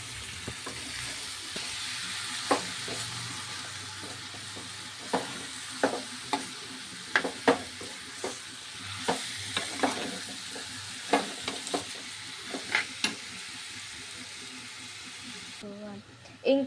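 Chicken curry with tamarind leaves is stirred in a pan, a spoon scraping and knocking repeatedly over a steady low sizzle, close and moderately loud, with a brief voice at times.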